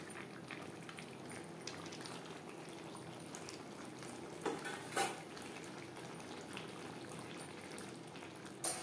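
Pui shak (Malabar spinach) stirred and frying in a pan gives a faint, steady sizzle with soft scraping and clinks of the stirring spoon.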